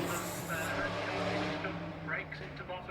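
Auto Union Type C V16 race car braking into a corner with the tail sliding, a brief roaring engine note that fades as it moves away, heard at a distance.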